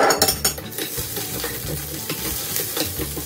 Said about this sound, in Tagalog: Mainit na. Ilagay ko na tong garlic.